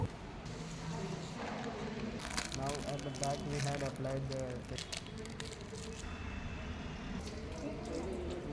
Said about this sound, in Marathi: मग पाण्याने धुतलं.